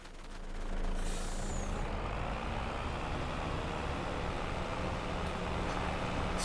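A loaded harvest truck in Farming Simulator 25 on a Montana farm field, a loud steady engine drone and road rumble after a brief rising start, with a hissing burst of air near the beginning, close and continuous.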